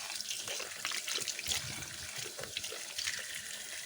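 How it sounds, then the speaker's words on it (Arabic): Tomatoes being washed under running tap water, a steady faint splash and patter of water with small irregular bursts as the fruit is handled, no talk. "غادي نغسلوها ان شاء الله، غادي نغسلوها مزيان"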